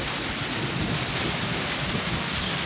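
A rainstorm with thunder: steady, moderately loud hiss of falling rain with a low rumble of thunder underneath, continuous throughout, no voices.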